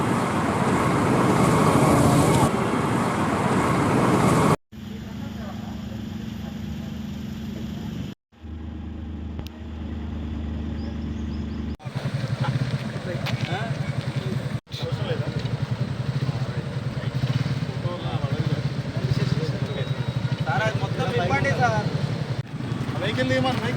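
Motorcycles ride past in a road safety awareness bike rally held by the road transport department in Kothagudem, a continuous loud rumble of engines and traffic with cuts between passages and voices in the background.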